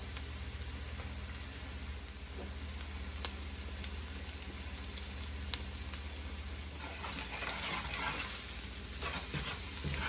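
Curry powder toasts in a hot pan for curry goat, sizzling and crackling in a continuous dense hiss with scattered pops. It carries on steadily throughout with no voices.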